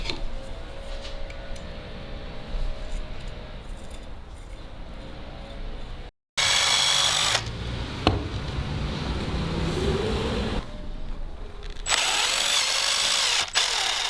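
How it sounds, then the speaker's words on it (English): A power drill bores drain holes through a hunting knife handle in several loud, steady bursts with short pauses between runs. "I'll do the drain holes right now."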